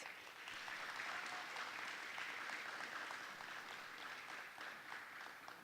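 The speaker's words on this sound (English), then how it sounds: "Can we give them a round of applause?" A round of applause for high school debate teams at an inter-high school integrity commission competition, steady continuous clapping from a crowd heard at a fairly low, distant level without voices.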